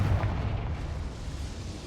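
Confringo fire spell explosion in the Hogwarts Legacy video game, a low booming burst at the start that quickly decays into a rumbling tail, no talking.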